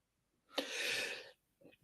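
A single sharp sneeze close by, a brief breathy burst followed by a short exhale, otherwise quiet.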